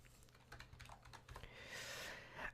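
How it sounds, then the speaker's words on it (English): Keys tapped on a computer keyboard to enter a value in photo-editing software: a quick, quiet run of close clicks that ends in a faint hiss. "So I'll just type that in here."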